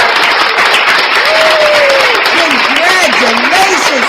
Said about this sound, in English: Let's get the applause button.